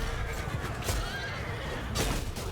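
Horses neigh amid a cavalry battle in the video game Mount & Blade II Bannerlord, with whinnies rising briefly out of a dense, noisy clash of hooves and combat.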